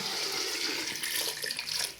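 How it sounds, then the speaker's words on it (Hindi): Water pours into a cooking pot for boiling potatoes, a steady, close splashing stream that runs for the full length without any talk. "ये देखो जी पानी मैंने डाला"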